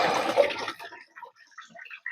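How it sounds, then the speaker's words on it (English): Water from an air conditioner drain in a basement splashes into a bucket, a loud rushing pour that cuts off, then faint scattered drips. "let it drip off a bit so I don't get all the water on the floor"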